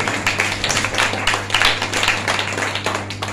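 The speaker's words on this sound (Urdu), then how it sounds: "زوردار تالیاں" Church congregation at a Friday healing meeting clapping together in a brisk, fairly steady rhythm, close and moderately loud for a few seconds.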